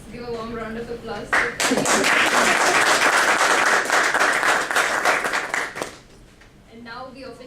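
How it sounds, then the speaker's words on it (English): Audience applause breaks out at a Toastmasters officer installation ceremony, dense loud clapping held for about four seconds before tapering, with a person talking briefly before it starts and again as it dies away. "let's give a warm round of applause"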